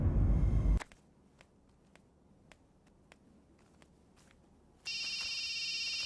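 An electronic phone ringtone starts up suddenly after a quiet stretch with a few faint clicks, ringing steadily and fairly clearly.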